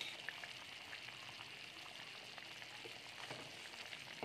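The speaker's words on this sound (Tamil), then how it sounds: "இப்போ குழம்பு நல்லா கொதிக்குது" A pot of okra tamarind curry (vendakkai puli kuzhambu) bubbles and simmers quietly with soft crackling pops, a steady low boiling texture and no talking.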